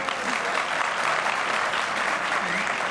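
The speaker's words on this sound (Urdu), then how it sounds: "ہاشمی صاحب یہ تالیاں اب ٹھیک بج رہی ہیں نا؟" Studio audience at a televised debate show applauding steadily and loudly, a dense, even wash of clapping that holds for about three seconds with no letup.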